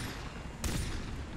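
Gunfire in the video game Far Cry 3: a sharp broadband shot cracks out mid-clip over a steady rumbling background, with a few softer low thumps after it.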